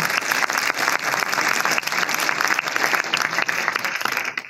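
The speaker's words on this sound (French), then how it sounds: "On peut l'applaudir." Steady applause from a developer conference audience after a talk, dense clapping that stays loud throughout before tapering slightly at the end.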